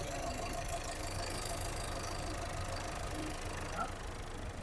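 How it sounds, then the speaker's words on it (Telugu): A 2014 Ford EcoSport Titanium diesel idles with a low, steady rumble and faint ticking, heard from fairly close beside the car throughout at a subdued level. "ఇంజన్ సౌండ్ అయితే"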